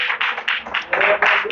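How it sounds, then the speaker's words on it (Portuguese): A church congregation claps in praise of the Lord during a sermon, a brief burst of many hands applauding together at moderate loudness with no voices over it. "Vamos aplaudir ao Senhor?"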